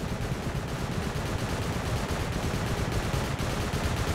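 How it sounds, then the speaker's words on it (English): In Rust, a steady, unbroken stream of automatic gunfire from something like an auto turret rattles on for the whole stretch at a constant level, dense and rapid, with no pauses and no voices. "Maybe an auto turret or something?"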